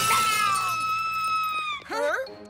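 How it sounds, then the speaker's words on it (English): A cartoon mirror shatters with a bright, ringing crash and glassy tinkling that decays into sustained tones, followed by a brief cartoonish vocal wail. "Daddy, you broke my mirror"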